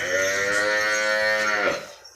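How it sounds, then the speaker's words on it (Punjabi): A pure Holstein Friesian heifer on a farm lets out one long, loud, close moo that holds steady before tapering off. "ਬਹੁਤ ਸੋਹਣੀ ਪਿਓਰ ਐਚ ਐਫ ਬਰੀਡ ਵਾਲੀ ਵੱਛੀ ਆ"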